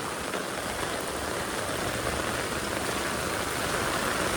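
Steady, dense downpour of heavy rain in Morbi, Gujarat, hissing across all surfaces, loud and unbroken throughout with no voices.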